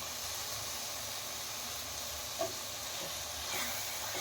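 Fenugreek leaves (methi) stirred into a sizzling curry in a home kitchen, giving a steady frying hiss with a soft stir near the middle and a brief scrape toward the end, no voices.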